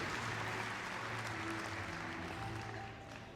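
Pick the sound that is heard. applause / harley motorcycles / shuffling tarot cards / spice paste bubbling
applause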